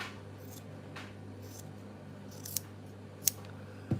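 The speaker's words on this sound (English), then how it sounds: "So I'm going to trim it carefully." Scissors trimming a fabric collar for a handmade rag doll, giving a few soft snips and then three sharper, distinct close cuts near the end over a faint steady hum.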